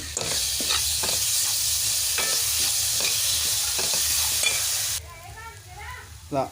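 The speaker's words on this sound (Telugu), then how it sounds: "అల్లం వెల్లుల్లి పేస్ట్ను కూడా కొంచెం ఆయిల్లో అయితే మగ్గించుకోవాలి" Ginger garlic paste sizzles steadily in hot oil for a sardine fish curry, a loud continuous frying hiss with scraping stirs, dropping off sharply near the end to a quieter pan.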